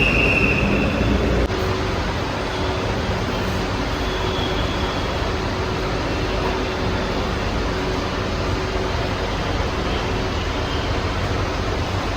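A metro train ride in Bengaluru fills the clip with a steady, loud rumble and rolling noise that stays constant throughout, with no talk.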